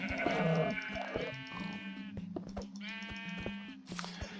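Sheep in the Minecraft Skyblock video game give several loud, close, wavering bleats in quick succession. They are heard alone, with short gaps and a few clicks between the calls.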